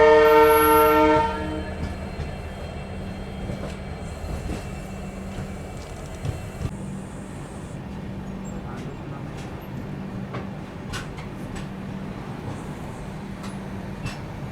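The Kalindi Express pulls into Kanpur Central station with a loud horn blast at the start. A steady rumble of the train follows, with light clatter and a voice talking.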